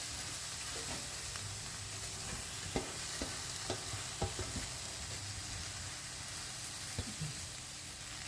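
Chopped fenugreek leaves fry in a pan with onion and masala while being stirred, giving a steady soft sizzle broken by scattered light clicks of a spoon against the pan, with no talking.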